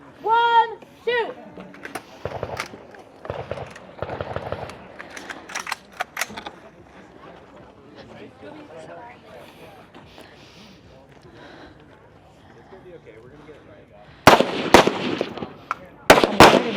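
Sharp gunshots fired during an elite women's stage at a national shooting competition, several quick cracks early on and a louder cluster near the end, heard amid crowd noise and commentary talk.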